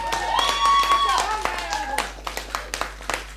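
Studio audience clapping on a live Hungarian Roma music request TV show, a dense burst of applause that thins into scattered individual claps, with a voice and tonal sounds overlapping early on.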